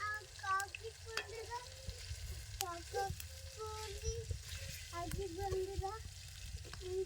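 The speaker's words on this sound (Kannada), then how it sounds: "ಎಲ್ಲ ಮೀನಾನು ಒಂದು ಸ್ವಲ್ಪ ಒಂದೊಂದು ಸರ್ತಿ ಅಷ್ಟೇ ಸ್ವಲ್ಪ ಫ್ರೈ ಮಾಡ್ಕೊಂಡು ತೆಕ್ಕೊಂತೀನಿ ರೀ" Fish pieces frying in a pan, a soft steady sizzle with occasional stirring clinks, quiet and close, with a voice talking over it at times.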